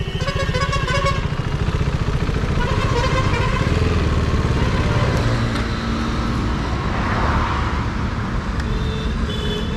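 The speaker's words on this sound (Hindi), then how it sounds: "इस बाइक का नाम है हीरो पुच और इसका शायद कुछ इंजन में प्रॉब्लम आ गई" A Hero Puch moped engine with a fault runs rough and heavy, a steady, close, loud motor drone with a pulsing throb that continues unbroken, with road traffic around it.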